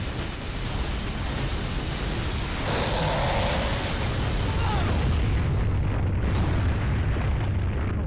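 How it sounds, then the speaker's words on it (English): Explosions in the Spider-Man video game form a dense, loud, continuous roar of booming blasts and rumbling debris, with a surge of crackling bursts in the middle and no clear pauses. "Explosions everywhere!"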